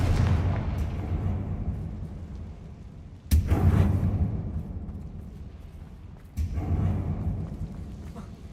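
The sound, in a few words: Confringo fire spell explosions in the video game Hogwarts Legacy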